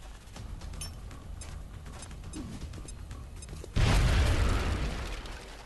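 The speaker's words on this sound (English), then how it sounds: "Now toss your grenade at the enemy in front of you." A grenade blast in the XCOM video game, one loud, close boom that hits suddenly after a quieter stretch of mechanical creaks and clicks, then a rumbling tail that slowly fades.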